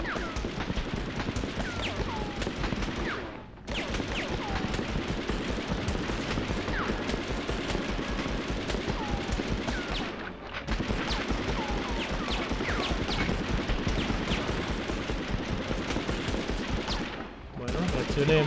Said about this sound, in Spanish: ¿Ven cómo disparan?